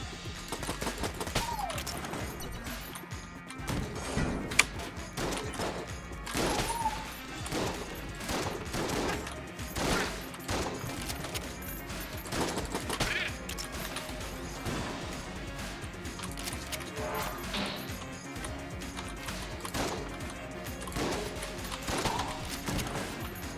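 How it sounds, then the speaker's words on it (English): Enemy gunshots in Enter the Gungeon, a steady stream of sharp shots and impacts firing in rapid succession for a long stretch, up close and fairly loud, with no voices. "More shots than I thought from that guy."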